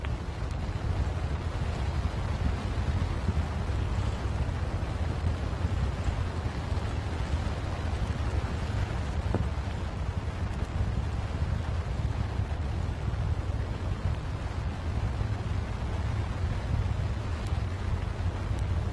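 Artemis Moon Rocket engines fire during a hot fire test, one engine with a fault, producing a continuous deep, rumbling roar heavy in the low end, steady and unbroken with a wind-like hiss over it and no voices.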